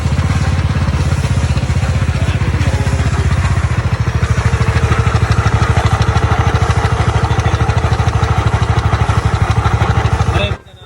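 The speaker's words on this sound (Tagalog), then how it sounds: "boss, pwede bang parinig itong makina ko kung anong hatol mo?" A motorcycle engine being checked for its timing chain runs loud and close, a steady rapid mechanical chatter and drone that holds evenly for about ten seconds before cutting off abruptly.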